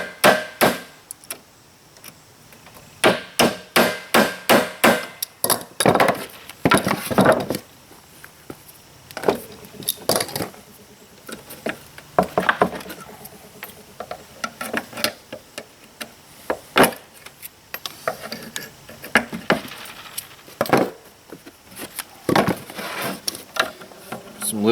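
Pliers work nails and small label staples out of pallet wood for a tiny home, giving sharp, irregular clicks, knocks and creaks in quick bursts and scattered single taps, close up, with no talking.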